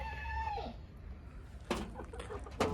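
Frightened hens in a coop let out faint, scattered clucks and a couple of sharper squawks, heard from a short distance in a quiet space.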